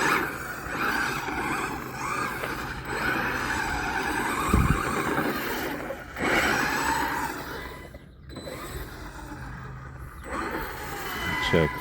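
A Maverick Quantum RFlux 1/8-scale RC car spins out with a busy, buzzing electric motor whine and gritty drivetrain and tire scrabble, fairly close, with brief gaps and voices talking intermittently.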